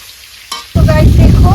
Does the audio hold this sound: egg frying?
yes